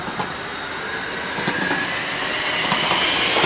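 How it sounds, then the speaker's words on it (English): A train rumbles past nearby in Portland, Oregon, with a broad steady roar and faint rail clatter, growing slightly louder toward the end. "And there's the train."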